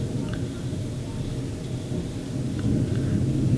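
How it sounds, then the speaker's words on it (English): Low rumbling thunder from an approaching storm rolls steadily beneath light rain pattering nearby, growing slightly louder toward the end, with no voices. "We're getting ready to have a storm here if you hear thunder."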